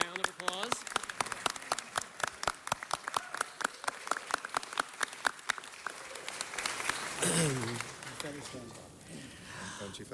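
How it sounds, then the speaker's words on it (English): People at a city council meeting applaud with distinct, fairly sparse claps in a steady patter, while a voice speaks briefly near the end as the clapping thins out. "let's give her a round of applause"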